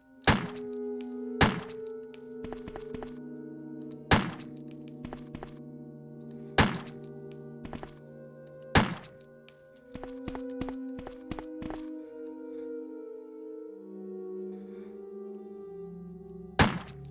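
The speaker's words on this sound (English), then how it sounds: "we can shoot the screen right here" Sharp, loud impacts from shooting at the screen in the 1996 Resident Evil video game, roughly eight thuds spaced a second or two apart with ringing tones and electronic game sounds between them.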